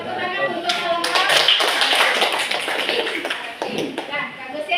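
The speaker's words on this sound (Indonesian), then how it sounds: "Tepuk tangan untuk kelompok." A school group presentation on avoiding free association ends with the class clapping for the group, a dense burst of hand claps and taps mixed with children's voices and shuffling.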